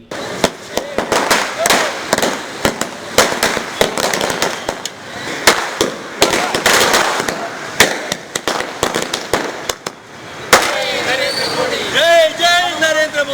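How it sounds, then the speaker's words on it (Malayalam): Rapid strings of firecrackers burst in loud crackling volleys at a street celebration in Kochi, sharp pops following one another, with shouting and singing voices joining near the end. "പടക്കം പൊട്ടിച്ചും"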